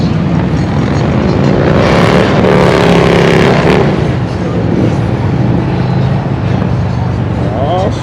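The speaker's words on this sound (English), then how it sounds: "All the bikes rolling. There they go." A group of motorcycles rolls past on an East Coast bike trip near Erie, Pennsylvania, with loud, continuous engine roar close by and rising and falling passes, while people talk over it.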